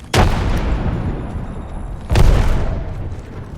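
Two arc star grenades detonate in a first-person shooter video game, each a sudden heavy boom with a rumbling tail, the blasts about two seconds apart and close by.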